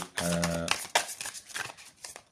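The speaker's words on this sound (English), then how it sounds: "shuffle the cards" Tarot cards being shuffled by hand during a reading, a brief rapid riffle of papery flutters and soft slaps, close and fairly quiet, with a short stretch of speech-like tone near the start.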